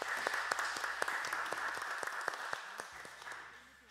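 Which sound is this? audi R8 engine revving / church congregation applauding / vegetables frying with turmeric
church congregation applauding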